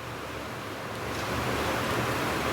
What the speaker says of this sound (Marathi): मिश्रण घट्ट आहे आपण त्यात पाणी टाकूयात